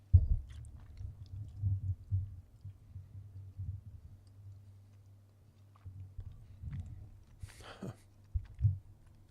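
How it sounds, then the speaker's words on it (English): A person chewing food near the microphone during a live play-by-play broadcast of a baseball game between the Pirates and Cardinals, soft irregular mouth clicks and munching over a low hum. "Pardon the chewing."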